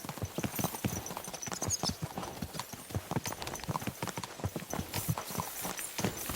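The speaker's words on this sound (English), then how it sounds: "Is this your first time riding a horse?" Horse hooves clip-clop in the video game Kingdom Come: Deliverance II in a quick, steady rhythm, close and clear, with a faint background hum and no talking.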